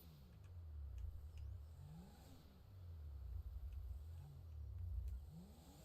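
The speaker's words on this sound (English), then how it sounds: "We gotta turn the engine on. We gotta rev it a little bit." A car engine in GTA V roleplay revs in several swelling pulls, rising and falling pitch under a steady idle hum, fairly quiet and continuous with no talk.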